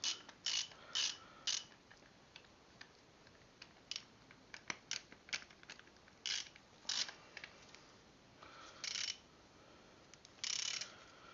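A flex-head ratchet working on a John Deere L100 mower deck spindle, faint clicking bursts of ratcheting in short uneven runs over a quiet background.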